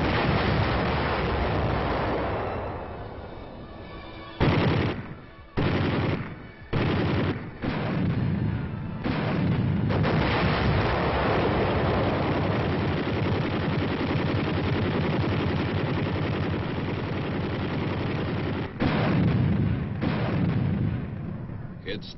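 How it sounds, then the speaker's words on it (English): Massive Korean War artillery barrage before a river crossing: continuous heavy booming roar with dense overlapping detonations, loud and sustained, broken by a few brief lulls. "It opened with the biggest barrage since the start of the war."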